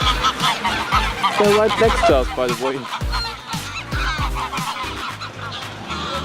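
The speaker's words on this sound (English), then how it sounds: "Look at all them birds." Geese in Iceland honk loudly and repeatedly close by, a dense overlapping chorus of calls, with a person briefly speaking over them.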